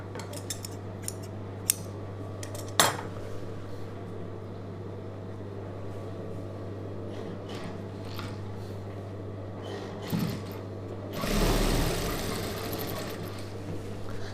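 A sewing machine stitches a chudidhar neck piece, a low steady motor hum running throughout, with a few sharp clicks and a burst of louder rattling near the end.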